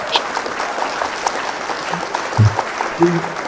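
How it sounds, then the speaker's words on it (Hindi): A crowd at a health awareness event applauds as a doctor, an orthopedic surgeon, joins the stage; steady clapping throughout, moderately loud, with a few brief voices and bumps poking through. "जोरदार तालियों से स्वागत करेंगे"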